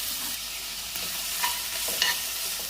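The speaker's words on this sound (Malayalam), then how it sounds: "2 മീഡിയം സൈസ് ഉള്ളി ഞാൻ കട്ട് ചെയ്ത് വെച്ചിട്ടുണ്ട്. ആ ഉള്ളി ഫ്രൈ ചെയ്തെടുക്കാം." Two medium onions, cut up, frying in oil in a pan for prawn biryani, a constant close sizzle with a few light stirring clinks, no voices.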